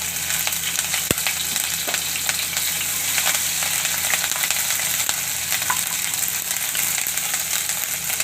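Garlic, ginger and chillies fry over low heat in a pan, giving a steady, close hiss of sizzling oil that runs without a break, with a few faint stirring clicks and no voice.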